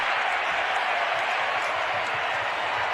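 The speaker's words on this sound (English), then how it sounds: "there was a cheer there because they just won free yogurt by that miss" A crowd at an NBA game between the Boston Celtics and Minnesota Timberwolves cheering after a missed three-point shot, a sustained broad roar of arena noise filling the whole moment.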